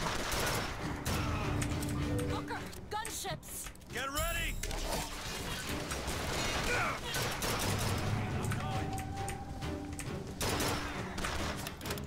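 Gunfire and explosions in the Bioshock Infinite finale battle around a gunship, a dense, continuous barrage of shots and crashes under game effects, with speech present throughout.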